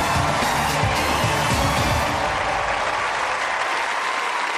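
An audience applauds loudly and continuously at a Famous and Fearless competition show, a dense wash of clapping that slowly thins toward the end.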